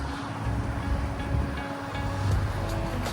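Waves and wind at New Haven Harbor on a cloudy day, a broad rushing wash with gusting rumble, fairly loud and continuous with no voices.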